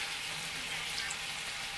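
Onion, carrot and venison frying in butter give off a steady, even sizzle with soft crackling, close and continuous with no voices.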